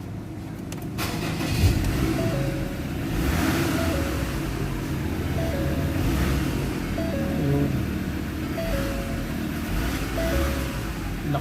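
The Ford Ranger diesel engine runs steadily after being restarted, a continuous low rumble with a faint repeating whine, close by and with no talking.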